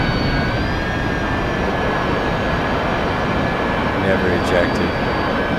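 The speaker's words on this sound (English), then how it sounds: "Somehow the engine is still making noise." An F-18 jet engine in the DCS flight game keeps up a steady, loud roar with a high whine on top, while people talk over it.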